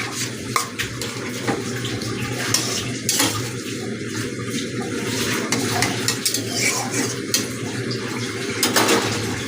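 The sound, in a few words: fish poured into simmering bitter gourd and potato curry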